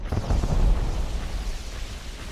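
Attack helicopter rockets exploding in Rust make a deep, rumbling blast up close that swells briefly and then decays into a long, fading roar.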